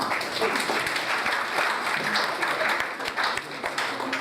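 Audience applause at an NCRIB members' evening, a steady patter of many hands clapping, moderately loud and continuous for a few seconds.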